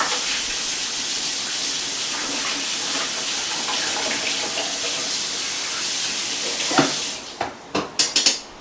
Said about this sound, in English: let me just rinse this off because I'm going to need to use it again